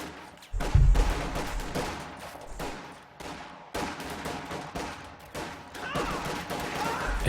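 Rifle fire from Grenadiers and Panzer Grenadiers in the strategy game Company of Heroes 2, aimed at a house held by riflemen: scattered cracks and overlapping volleys at mid distance, a steady intermittent battle din with a sharper report early on.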